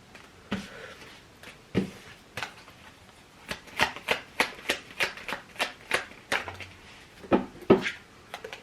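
Tarot cards being shuffled and drawn, with a long run of crisp, close riffling snaps and flicks that speed into a steady rhythmic burst before slowing again, with no talking.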